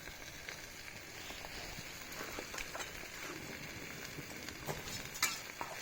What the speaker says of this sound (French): T'as mélangé les saucisses aussi.